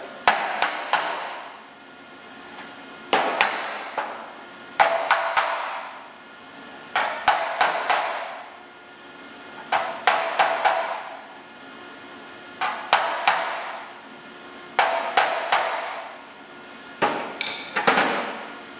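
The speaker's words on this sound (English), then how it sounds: "I've only got to tap it enough to get the two edges to sit flat together." A hammer taps metal edges flat before MIG welding. The taps come in quick bursts of three to five ringing, close strikes separated by short pauses across the whole stretch, with no voices.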